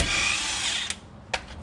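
A heavy power tool nicknamed Big Bertha spinning out lower control arm bolts on a car: a sustained high-pitched whir, then two short sharp bursts.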